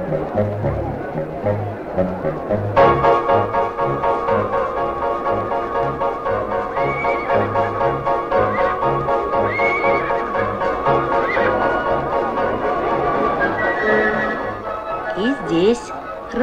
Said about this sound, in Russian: Разных коней встретили Вася с Машей, но так и не могли выбрать, какой конь лучше всех